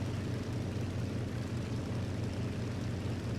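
Steady propeller drone of an I-180S fighter engine throttled back for landing in the video game War Thunder, a continuous loud hum with a pulsing low rhythm and no talk.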